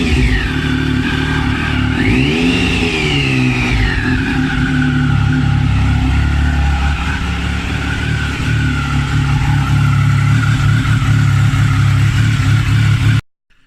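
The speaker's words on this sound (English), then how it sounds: "I did start the bike last night by crossing the terminals, and then I took a quick video of it" A Triumph Daytona motorcycle engine, just refitted and started by crossing the starter terminals, fires and runs steadily and loudly up close, with a quick rev rising and falling early on and a sudden cut at the end.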